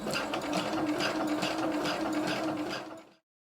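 A sewing machine runs steadily on knit fabric with clear elastic, its rapid mechanical whir and ticking needle loud and close for about three seconds before stopping abruptly.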